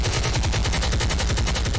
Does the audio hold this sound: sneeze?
no